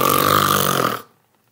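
A storyteller's voice imitates a giant's terrible snoring, one loud, rasping, drawn-out snore lasting about a second before cutting off to silence.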